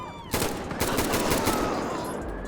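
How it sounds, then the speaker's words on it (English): Loud gunfire from the GTA V game with the LSPDFR police mod: a rapid burst of several close, sharp shots cracking in quick succession, followed by a lingering echoing tail, with no talk. "I think I may have accidentally shot the security guard."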